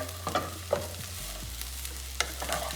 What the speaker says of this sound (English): So now I also add the cilantro and then mix everything together.